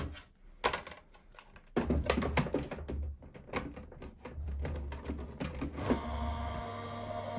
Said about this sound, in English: And then just run that back through our cutting machine.